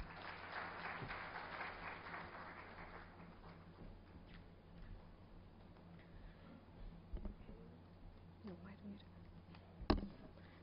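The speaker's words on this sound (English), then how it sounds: "So can we have a warm round of applause" An audience at a pension and retirement benefits summit gives a brief round of applause to welcome a speaker on stage; the clapping is quiet and fades within a few seconds, leaving a hushed room with faint voices and a sharp knock near the end.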